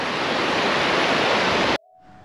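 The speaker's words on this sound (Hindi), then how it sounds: "काफ़ी पानी है नाले में" A mountain stream in Spiti Valley, Himachal Pradesh rushes loudly in a steady broadband roar near the crossing point, then cuts off abruptly, leaving a faint hum.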